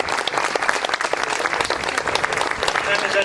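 Audience applause at a live stage show, dense steady clapping from a crowd that continues loudly throughout.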